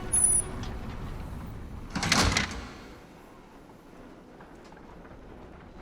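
Doors on a roller coaster ride slide open with a single loud hiss lasting about half a second, then fade into quiet background rumble.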